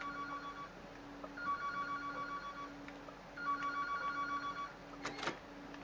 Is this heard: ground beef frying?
no